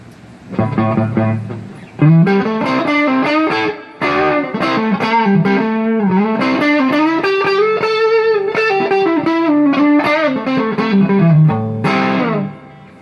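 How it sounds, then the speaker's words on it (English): A sustained electric guitar through a Vox Bruno TB18C1 amplifier plays chords and melodic runs with a washy reverb tail, loud and continuous after a short opening strum. "I'll give it a little reverb too."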